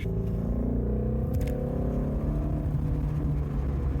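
A car engine roars steadily up close in third gear, its pitch climbing as it pulls hard through the gear, a continuous loud drone.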